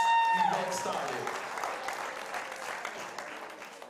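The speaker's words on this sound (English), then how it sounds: "So clap real loud as we get tonight's event started." An audience at a charity dance competition event claps steadily and fairly loudly, a continuous wash of applause lasting the whole stretch after a brief tone at the start.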